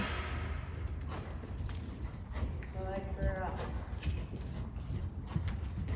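Hooves of a horse trotting during groundwork thud in a loose, uneven rhythm on the ground, fairly close, while a person talks over the sound and a brief whinny-like tone appears midway.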